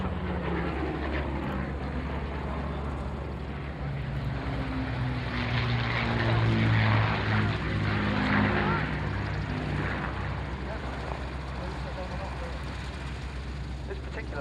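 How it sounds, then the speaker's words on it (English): Avro Lancaster bomber, one of only two airworthy examples, making a pass at an RAF Fairford airshow, its propeller engines droning loudly and swelling as it passes, with a commentator talking over the noise. "coming in from the left, one of only 2 airworthy Lancasters in the world"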